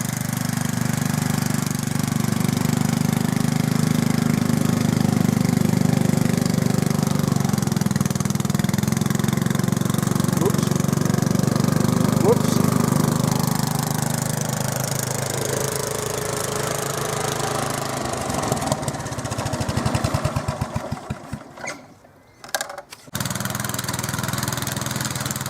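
A small petrol engine with a working governor, after carburettor adjustment, runs at a steady loud idle with a mechanical knock, then stutters and briefly drops near the end.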